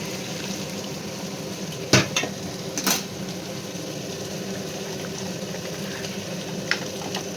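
Lentil dal cooking in a pot after a ghee tempering, a steady bubbling simmer with a couple of brief metallic utensil clinks, close and even throughout.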